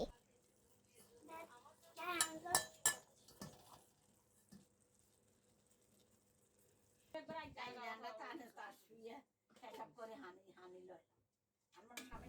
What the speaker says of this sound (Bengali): এখন লাড়াচাড়া করে দিতেছে